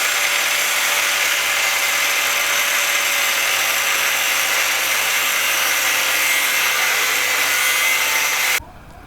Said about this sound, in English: let's go and get the angle grinder and start cutting.